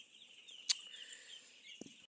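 A dense chorus of high peeping from day-old broiler chicks in a brooding room fills the space, steady and continuous, with a sharp knock and a brief thump standing out.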